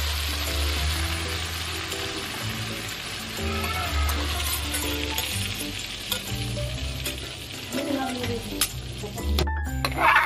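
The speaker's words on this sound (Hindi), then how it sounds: "और इसे भून लेंगे।" Masala frying in a pan for a colocasia-leaf sabzi gives a steady close sizzle under stirring scrapes and spoon taps, and a louder clatter comes near the end.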